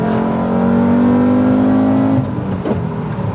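A Volkswagen Golf VR5 with a 2.3 litre five-cylinder engine holds a steady, loud rev, then the note drops away as it eases off, close and alone with no talk.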